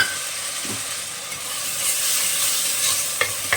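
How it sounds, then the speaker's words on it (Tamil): Ginger garlic paste sizzles and frys in a pan with golden-browned onions while a spoon stirs it, making a steady close hiss with occasional scraping clinks. "இப்போ நாம் அரைச்சி வச்சுருக்கிற இஞ்சி பூண்டு விழுது அதில் சேர்த்துக்கலாம்."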